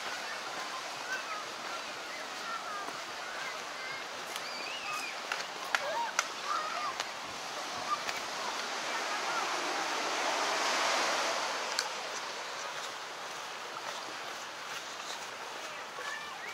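Ocean waves wash onto the sand at Chinamans Beach in Mosman, Sydney, making a soft, continuous distant surf with a gentle swell near the middle and no voices over it.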